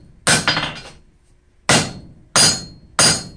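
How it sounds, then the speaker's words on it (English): A 3-pound hammer forges a steel knot, four loud, close metallic strikes with ringing decays, spaced unevenly with short pauses between blows. "Whenever I have a lot of forging to do, I will use my 3-pound hammer."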